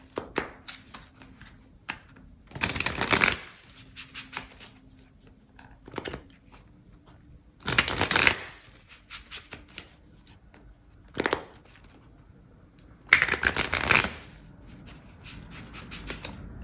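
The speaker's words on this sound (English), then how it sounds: "Let's grab your clarifiers and we'll talk about these." Tarot cards are riffled and shuffled in three loud close bursts of rapid fluttering, with quieter card handling and soft rustles in between and no talking.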